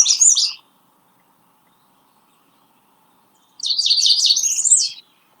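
Redstart song from a live bird broadcast: a brief high phrase, then silence, then a longer rapid series of thin, high-pitched notes, clear and fairly close.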